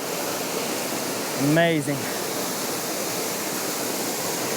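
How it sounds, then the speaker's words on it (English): Steady broadband rush of a waterfall at Bowman Lake pours on throughout, loud and constant, while a voice briefly speaks over it near the start. "Look at this waterfall."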